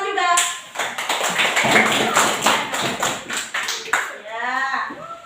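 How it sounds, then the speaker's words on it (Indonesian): A third-grade primary school class of children clapping their hands together in a classroom, a dense burst of rhythmic claps lasting several seconds with voices talking over the start and end. "Tepuk tangan juga."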